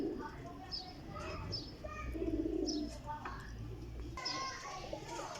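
Several Sialkoti pigeons, among them black-faced birds, coo in low rolling phrases at a loft, mixed with chirps, children's voices and a steady low hum beneath the talk.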